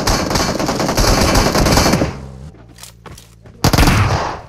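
Rapid automatic gunfire in a shooter video game, loud dense bursts for about two seconds, a brief lull with softer shots, then another sharp burst near the end.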